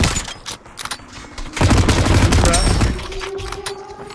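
Rapid automatic gunfire crackles in an online shooter game, with bursts of shots layered and loud near the middle, while players talk over the action.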